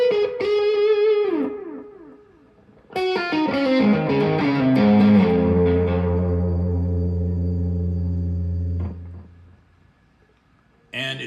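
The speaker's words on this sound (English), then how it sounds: "I have a nice ethereal, deep three-dimensional sound that I'm able to back up with the analog delay" Electric guitar run through an MXR Carbon Copy analog delay pedal, played as ringing notes and chords that trail off in soft repeating echoes, with a sustained low tone fading out and a brief new strum at the end.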